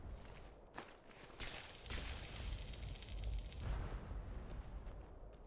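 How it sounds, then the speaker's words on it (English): Explosions in Skyrim as a Hagraven hurls fireballs during a battle, quiet distant booms and rumbling bursts rising and falling over several seconds. "I hear the explosions"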